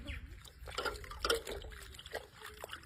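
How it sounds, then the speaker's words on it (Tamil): Cloth being swished and rinsed in water, with soft trickling and sloshing splashes at close range, moderately quiet, while a person talks over it. "இது என்ன பண்ணணும்னா தண்ணியில அலசணும்."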